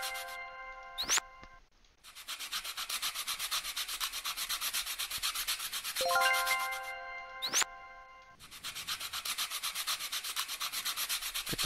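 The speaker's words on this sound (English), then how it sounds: "These are all parts going to get sanded." A sanding block rubs over wooden toy parts in Toy Tinker Simulator, with steady rhythmic scraping strokes that run for long stretches, broken by short pauses and a couple of bright chiming tones.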